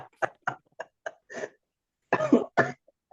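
A person coughs in a string of short, dry bursts, then gives a heavier, throatier bout near the end, all close and clear against a quiet room.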